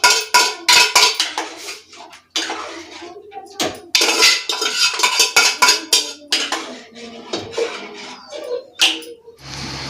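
Dal is added to a pan of fried masala amid busy metallic clattering and scraping of utensils against the pan, with close, irregular bursts separated by short pauses.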